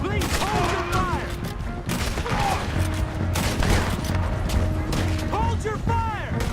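Rapid, dense gunfire in a Red Dead Redemption 2 shootout, overlapping shots and ricochet-like whistles crackling continuously, loud and near, with people shouting over the barrage.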